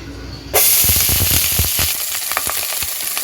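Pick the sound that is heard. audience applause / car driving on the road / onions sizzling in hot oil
onions sizzling in hot oil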